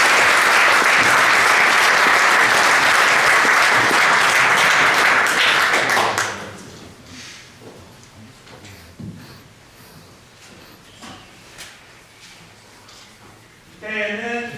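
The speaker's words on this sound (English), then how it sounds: "So give them a round of applause." A crowd at a high school football banquet breaks into loud, dense applause for about six seconds, then it fades into a quiet room with scattered taps and a few brief claps.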